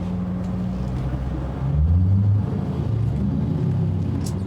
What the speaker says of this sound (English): No, that certainly doesn't sound like a 4-cylinder.